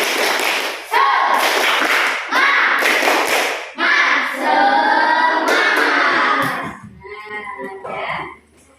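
A school class performs rhythmic spirit clapping, bursts of patterned claps in quick groups, loud and close, alternating with short shouted chants from the children and then trailing off into voices.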